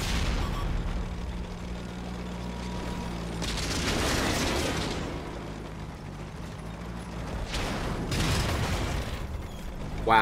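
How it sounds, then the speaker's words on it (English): Shell exploding near a tank in World of Tanks, over a constant engine drone: a broad roaring blast swells then fades, and a second pair of loud booming bursts follows a few seconds later. "Wow, that was almost a direct hit on the back of my tank."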